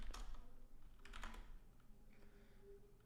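Soft, rapid keystrokes on a computer keyboard, with a quick burst early on and lighter scattered taps after it, quiet and close with no talk over them.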